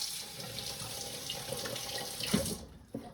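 Tap water runs steadily into a vessel while mixing bread dough, a continuous close hiss that stops abruptly near the end with a small clunk afterward.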